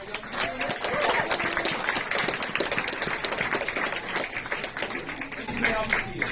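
Loud, dense clapping from the audience at a U.S. citizenship ceremony, cheering on young people as it rolls along steadily, with voices mixed into the crowd noise.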